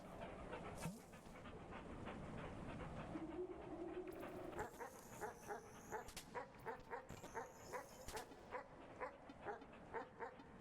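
Small cartoonish dog barks and yips in the video game Animal Well, a rapid run of sharp repeated yaps with panting-like breaths over a steady game music bed, fairly close and clear.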